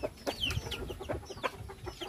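Native Bisaya chickens clucking in short, scattered bursts over a low background murmur, several birds calling near and at moderate loudness, with an occasional sharper squawk.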